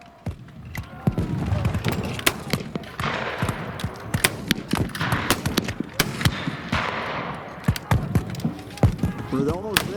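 Minie rifles fired independently at a shooting event, sounding as a steady run of sharp, irregular reports, some close and loud, others overlapping, spread across the whole stretch with voices talking underneath.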